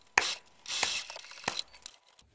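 A domestic sewing machine backstitches at the start and end of a straight-stitch seam while sewing a bag with a zipper foot, giving short bursts of rapid mechanical whirring and clatter, close and alone.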